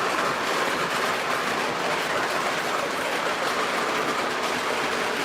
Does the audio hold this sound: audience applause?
no